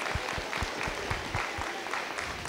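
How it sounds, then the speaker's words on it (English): An audience claps for fifth-grade students at a school event, steady dense applause with a few louder individual claps, close and continuous without talk. "Let's give them a round of applause."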